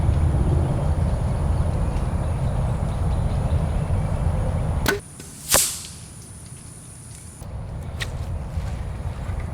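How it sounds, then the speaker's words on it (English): An arrow tipped with a Slick Trick Raptor Trick 2 broadhead strikes a target, a sharp whip-like crack followed by a second hard smack, alone over steady outdoor background noise. "We're going to shoot this Slick Trick Raptor Trick 2."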